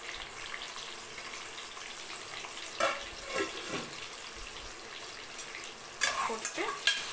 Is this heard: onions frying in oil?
yes